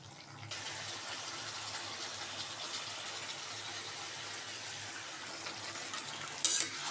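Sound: mutton frying with onion paste and spices in pan

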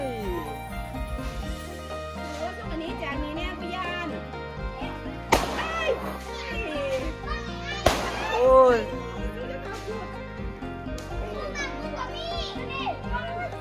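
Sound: firecrackers going off

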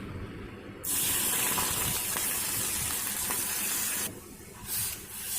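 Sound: milk poured into warm ghee in pan

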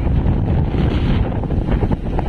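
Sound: strong wind at sea on fishing boat

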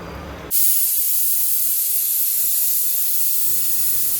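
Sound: pressure cooker whistling and hissing steam while cooking khichdi

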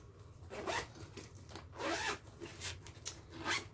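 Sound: zipper of a bag being zipped

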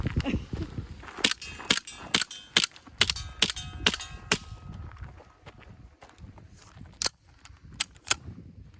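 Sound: CO2 Desert Eagle replica pistol firing

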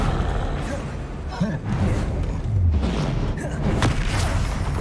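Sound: spell cast and hit in a video game

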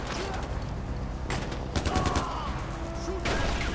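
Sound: gunfire in video game Far Cry 4

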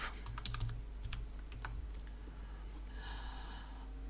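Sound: typing a search query on a computer keyboard

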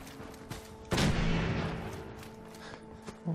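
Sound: NPC gunfire in the video game Fallout 4

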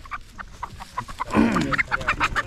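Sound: desi chickens clucking

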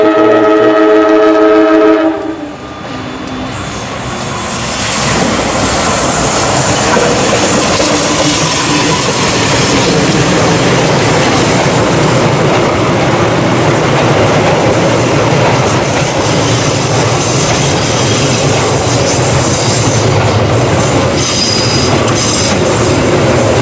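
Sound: passenger train passing

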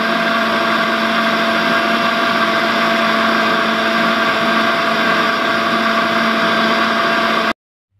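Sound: electric blender grinding spices with galangal and lemongrass

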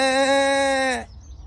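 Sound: goats bleating

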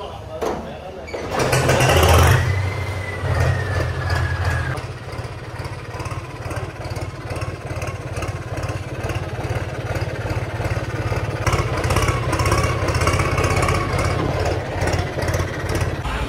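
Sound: tractor engine started and running

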